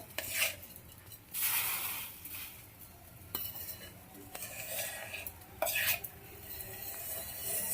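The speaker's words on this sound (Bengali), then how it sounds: "নাড়িয়ে দিয়ে ভালো করে গুড়টাকে জাল দিয়ে নিতে হবে" Jaggery being stirred and heated in a pot while making village-style jujube (kul) pickle, with intermittent scraping and clinking spoon-on-pot bursts over a soft steady simmer, close and moderately quiet.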